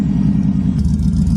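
A Buick car engine runs after starting, giving a steady deep rumbling idle with a slight rise in revs partway through, close and loud with no talk.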